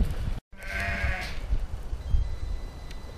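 Sheep bleat once in a drawn-out call near the start, outdoors on a farm where cleared brush feeds the flock, followed by low rustling and ambient noise.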